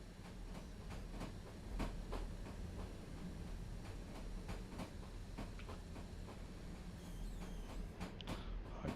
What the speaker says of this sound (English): I can hear the train is coming.